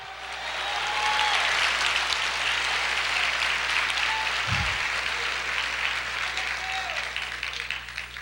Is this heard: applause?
yes